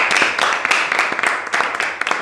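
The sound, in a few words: round of applause for the champion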